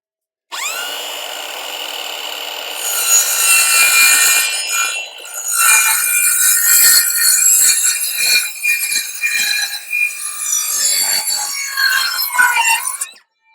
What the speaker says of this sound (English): first I've got to cut this little angle here with my trusty saw.